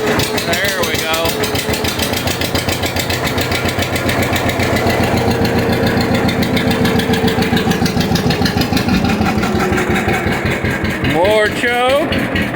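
A 1957 John Deere 520 tractor engine runs steadily with a loud, rhythmic two-cylinder chugging throughout, and a voice briefly talks over it near the start and end.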